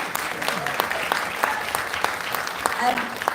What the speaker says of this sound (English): a massive hand of applause to Marcelle and to Victoria